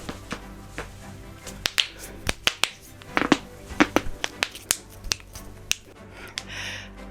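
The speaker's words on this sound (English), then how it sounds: "Now it's time for this cool segment where I crack my back on camera into the mic." Sharp back cracks and pops close to a microphone, a run of irregular snapping clicks, some in quick clusters, others spaced apart, loud and dry against a quiet background with faint breathing.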